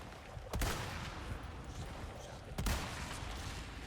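Gunfire in a Resident Evil video game cracks out in two sharp bursts about two seconds apart, each trailing off into a dull rumbling din of game noise.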